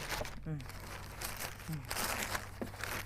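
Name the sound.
plastic garbage bag being folded for a vegetable planting box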